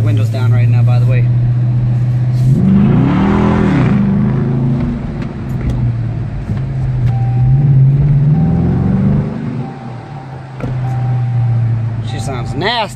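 Dodge Charger Daytona engine revving while driving with the windows down, a loud rumbling drone that swells and falls in a couple of throttle pushes, with talk over it.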